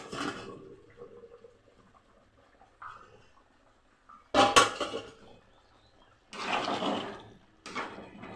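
Metal pot clanks as a lid is set on a pot of boiling mutton curry with coconut, giving a few sharp close clattering hits separated by quiet stretches.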